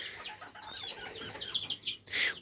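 An İspenç hen clucks and chirps softly at close range in a quick run of short, high notes, closing with a brief louder squawk.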